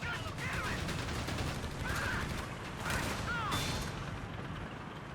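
Gunfire and explosions from battle in the video game Company of Heroes 3, a sustained dense barrage with several brief sharper bursts, loud and continuous without talk.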